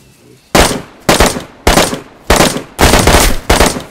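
Six loud, evenly spaced gunshots ring out in DayZ during combat near a castle base, each a hard crack with a short decaying tail, close and without talk.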